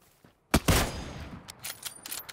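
Gunfire in a sniper video game comes from the left: two sharp, loud shots close together, followed by a few fainter pops.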